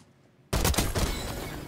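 Gunfire in Black Ops 6 during a 1v1 gunfight: after near silence, a sudden loud burst of rapid shots erupts and rolls on with dense, reverberant crackle.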